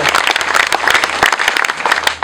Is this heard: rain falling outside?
no